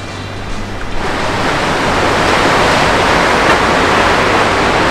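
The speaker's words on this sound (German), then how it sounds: "Alter, ist das am Winden." Strong wind rushes through a forest during a stormy night outdoors, a loud, steady roar that swells in after the first second and holds without pause, with no voices.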